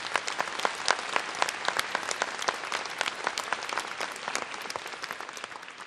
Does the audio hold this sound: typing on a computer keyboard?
no